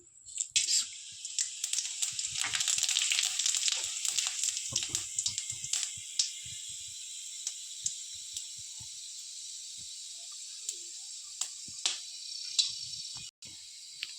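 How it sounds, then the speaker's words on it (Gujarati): Whole spices (cloves, black peppercorns, star anise and cumin) crackle and hiss in hot oil for a fish-curry tempering, loud and dense at first, then thinning to scattered pops and ticks. "આપણે આ વઘાર માટેનો મસાલો જે છે એ બધો નાખી દેસી લવિંગ મરી બાદિયા અને જીરું"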